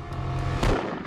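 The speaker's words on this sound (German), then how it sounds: "3 Schüsse fallen." Gunshots fired at night at the study of the head of the Treuhandanstalt, heard as one loud, sharp crack over a low rumbling background in a short burst, with no talking.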